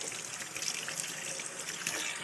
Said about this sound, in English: I'm gonna give this little onion a little rinse off.